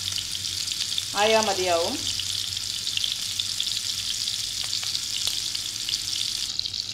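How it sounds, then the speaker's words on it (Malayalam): Chicken pieces shallow fry in hot oil in a home kitchen, giving a steady, bright sizzle and crackle that runs throughout, with someone speaking briefly over it near the start. "ചിക്കൻ ഒന്ന് ഇട്ട് കൊടുക്കാം. ഇത് നന്നായിട്ട് ഫ്രൈ ആയി വരണ്ട, ജസ്റ്റ് ഒന്ന് ഷാലോ ഫ്രൈ ആയാൽ മതി."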